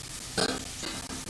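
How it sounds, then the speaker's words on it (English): A red pepper roasts directly over a front stovetop burner, giving a short burst of sizzling and crackling that swells, eases and flares again over little more than a second, close by with no talk. "So I'm just going to roast this right on my front back burner here."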